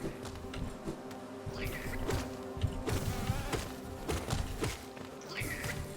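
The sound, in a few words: big bees buzzing in the video game Hollow Knight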